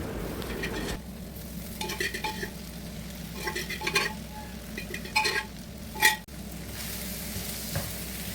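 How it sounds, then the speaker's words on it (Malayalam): Clam meat being stirred and roasted in a spice masala with garam masala and turmeric over low-to-medium flame, a continuous sizzle punctuated by repeated scraping strokes and a sharp clank of a utensil against the pan. "ഇത് യോജിപ്പിച്ച് നന്നായി വരട്ടിയെടുക്കാം"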